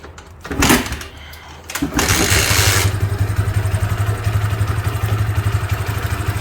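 A motorcycle is kicked over with a couple of clunks, then the engine catches and settles into a loud, steady, close-up idle.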